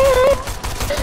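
Rapid automatic bursts from a Charge SMG in a Fortnite-style shooter rattle in quick succession, loud and close, lasting about a second without any voice.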